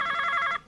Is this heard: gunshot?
no